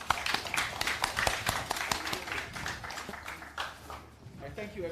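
Audience applause for a Lagos State commissioner at the 2020 Lagos Smart Meter Hackathon, a burst of crisp clapping that thins out toward the end as voices come in.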